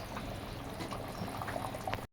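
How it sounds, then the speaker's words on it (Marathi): Water swirled from rinsing a pot is poured into a simmering chicken curry, making a brief bubbling, splashing gurgle that is close and quiet and ends abruptly. "मी आणखीन भांड आपलं धुवून पाणी टाकणार आहे"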